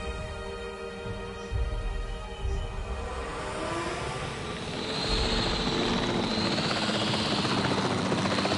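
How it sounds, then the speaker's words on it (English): A capture team helicopter in a video game, its rotor chopping steadily and loudly, building into a brighter, whining engine roar over several seconds and holding close throughout. "The priority needs to be tranquilizing it with the capture team chopper."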